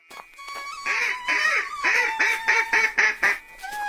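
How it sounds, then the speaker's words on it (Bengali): Several ducks quacking close by in a quick run of loud, overlapping calls, bunched in a rapid rhythm with brief gaps between them. "মা, হাঁসগুলোকে নিয়ে আসো তো।"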